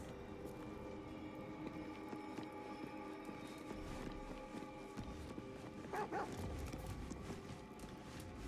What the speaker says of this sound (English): What's scratch barking at?